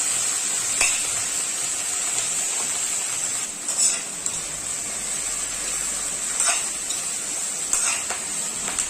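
Round radish pieces stir-fry in a pan with a steady bright sizzle, broken by a few scrapes and clinks as a utensil turns them.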